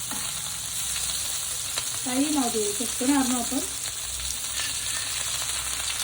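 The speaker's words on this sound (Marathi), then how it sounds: "हे बघा आता ही पण कोळंबी फ्राय झाली आपली काढून घेऊया" Prawns frying on a tawa give a steady close sizzle throughout, with a person speaking briefly over the crackle in the middle.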